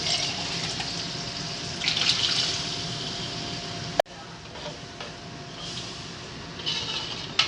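Water runs and splashes steadily into a pot, a continuous rushing pour with a brief clunk midway before the flow carries on.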